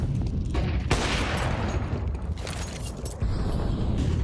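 Rapid gunfire from a professional Counter-Strike match between Team Falcons and Team Vitality, bursts of shots crackling over a dense, busy game mix with no talk.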